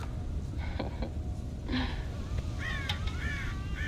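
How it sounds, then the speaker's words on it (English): Several crows caw in the open countryside of the Red Dead Redemption video game, harsh calls at moderate distance over steady ambient wind and farm background. "God damn crows!"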